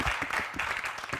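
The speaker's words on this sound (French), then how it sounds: "On applaudit très fort pour eux." Energetic applause from a crowd at a music festival event honouring students and players, a steady wash of clapping with distinct claps running through the whole short burst.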